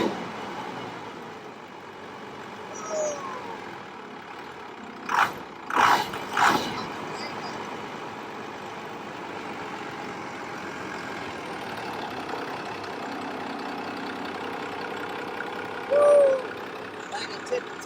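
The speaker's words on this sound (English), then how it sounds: "It's pretty good for idle, I think." A 1996 Cummins 12-valve diesel engine idles in a steady low rumble, with a few sharp clanks and a brief squeal standing out, while people talk nearby.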